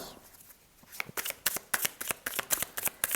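Tarot cards being shuffled by hand, a quiet start followed by a quick run of about a dozen crisp, evenly spaced riffles and slaps up close, no voices.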